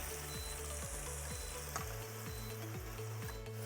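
Regular ground beef fries hard in a pan as its fat is drained off, a loud steady sizzle with a repeating rhythmic scrape running underneath, no voices.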